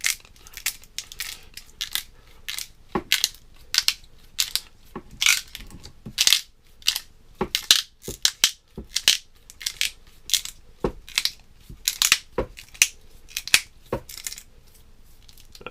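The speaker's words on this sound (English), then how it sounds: "take your packing tape and just torque it down to a little over" Packing tape wrapped and pulled tight around modular flat blades, giving a steady run of sharp, crackly tearing and snapping bursts, close and fairly loud, with no talking.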